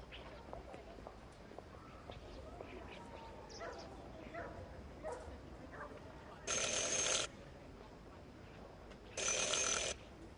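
A shop door bell in the Syberia video game rings twice in short bright bursts over a quiet background of soft ambient sounds.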